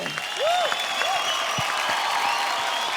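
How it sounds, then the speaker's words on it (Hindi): An audience applauds dancers on stage at a televised dance competition show, with broad, steady clapping that fills the whole stretch and a couple of rising whistles cutting through near the start. "जोरदार ताली हो जाए इन सब के लिए"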